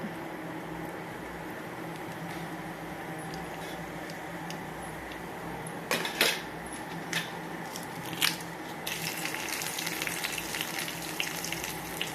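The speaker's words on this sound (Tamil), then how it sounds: "எண்ணெய் காஞ்சிட்டு இருக்கு. கடுகு போட்டுடலாம்." Mustard seeds go into hot oil for a Tamil-style dish, giving a soft continuous sizzle with scattered sharp pops and crackles, moderately quiet and close, with no speech.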